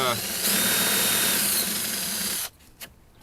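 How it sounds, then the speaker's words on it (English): A power drill with an oversized bit bores a shallow countersink into wood while building a garden trellis: a steady, loud whirring grind for about two and a half seconds, then it stops abruptly and leaves a couple of faint knocks. "I don't have a countersink bit, so I just use a larger drill bit."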